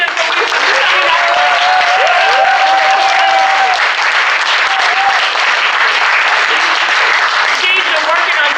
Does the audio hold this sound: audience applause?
yes